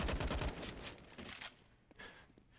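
Rapid bursts of gunfire from a Counter-Strike match, a dense volley of shots up front that fades into quieter scattered reports.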